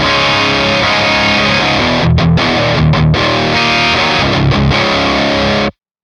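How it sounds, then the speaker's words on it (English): Electric guitar crunch tone with extra gain from a Quad Cortex capture, loud and saturated, ringing distorted chords broken by a few short choked gaps before cutting off abruptly near the end. "So this is with a bit more gain."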